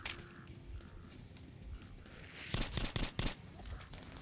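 Gunfire in Metro Last Light Redux, a low rumble of combat noise that breaks into a cluster of loud, rapid shots near the end, fairly close and punchy.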